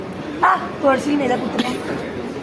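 A dog gives a few short barks and yips at a wedding gathering, close and moderately loud, in brief bursts spread across a couple of seconds, with people talking around it.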